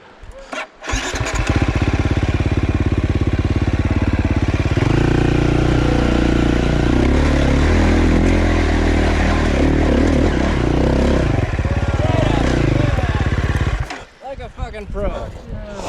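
A dirt bike engine fires up and revs loudly and close on a rough mountain trail between Idaho City and Featherville, surging and straining for several seconds before cutting back, with a little voice at the end.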